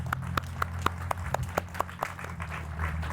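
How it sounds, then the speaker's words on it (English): Applause at the Ginter Park Library rededication, sounding like a few hands clapping in a steady, evenly spaced rhythm at moderate distance, with quiet room noise beneath. "So give yourself a round of applause."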